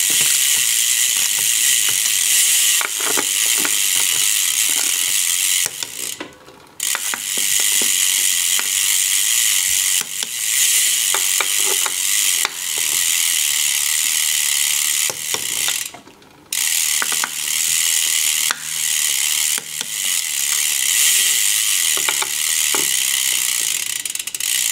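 Rapid ratcheting freehub ticking from a spinning bicycle wheel on a Wilier road bike during a spin test, a loud, continuous mechanical buzz of clicks with two brief gaps where the ticking drops out.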